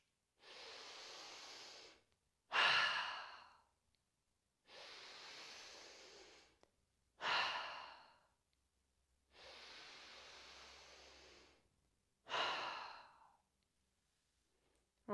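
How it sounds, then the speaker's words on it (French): Slow paced breathing during an anti-stress yoga session: three cycles of soft inhales through the nose, each followed by a stronger, sighing exhale through the mouth, quiet and close with pauses between. "Et je vous invite à venir faire 3 inspires par le nez,"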